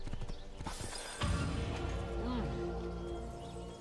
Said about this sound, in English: So let's get back on a horse